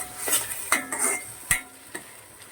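A spoon stirs thick pepper chicken gravy in a pan over a low flame, with several scraping strokes and clinks against the metal and a faint sizzle beneath.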